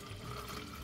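Water poured into a container for a homemade tomato, carrot and lemon drink, a steady close splashing rush lasting under a second.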